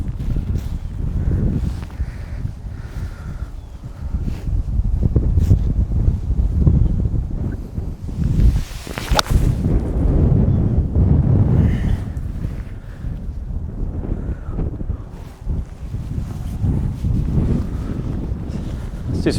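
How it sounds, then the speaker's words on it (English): Strong wind sweeps across an outdoor golf range, heavy low rumbling buffets on the microphone rising and falling in gusts over a long stretch, with a brief sharp crack partway through. "It's a really windy day today."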